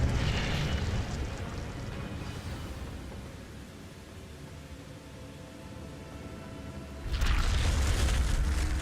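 Incendio fire spell cast in the Hogwarts Legacy video game: a loud, steady roaring rush of flame that dips slightly midway, then surges sharply louder near the end.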